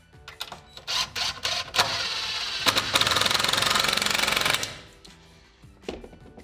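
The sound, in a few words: power drill driving screws into wood block between studs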